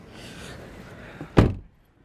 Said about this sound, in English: Very light door. I like how easy it is to open.